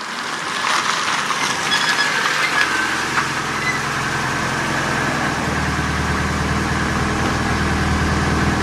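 A car engine idles steadily and loudly while warming up after restoration work, a constant low rumble with no talk over it.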